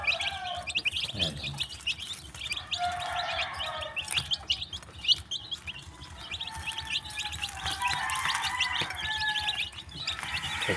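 Young chicks of a Sweater Dom White Kelso chicken line chirp and peep in their brooder, a busy scatter of high tweets continuing throughout, close by and fairly soft.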